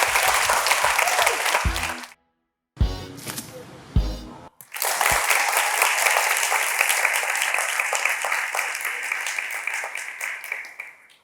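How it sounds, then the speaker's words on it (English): Audience applause rings out for two competing teams at a women's club event, starting abruptly, broken by a couple of short gaps with a brief voice, then resuming as steady, full clapping that slowly tapers off. "Give them a round of applause"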